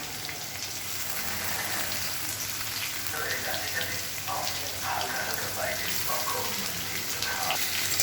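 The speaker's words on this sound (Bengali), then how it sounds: "মশলা আমি বেটে রেখেছি আগে, এই মশলা ছেড়ে দিলাম।" Ground spice paste goes into hot oil in a pan for a Bengali fish and aubergine curry, producing a dense continuous sizzle and hiss that holds steady and close, with no talking.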